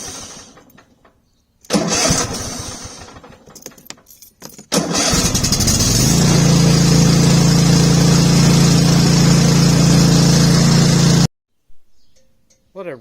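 Cub Cadet XT2 lawn tractor engine with fresh oil cranking after some clicks and rattles, catching and settling into a loud steady idle for several seconds, then cut off abruptly, followed by faint handling noises.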